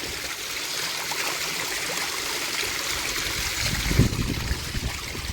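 Cold mountain water of a stream near Suryanelli, reached by off-road track on the way to a tea factory, pours steadily and close, a dense constant rush with a brief heavier splash partway through.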